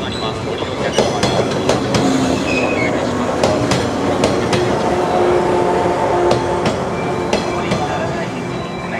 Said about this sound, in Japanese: この電車は折り返し19時39分発、普通、阪急阿古行き。